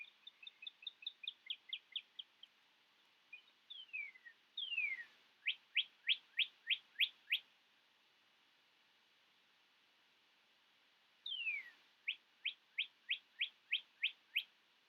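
A bird sings clear repeated whistled notes in quick series, with a short descending sweep before each run, separated by pauses; nearby and alone.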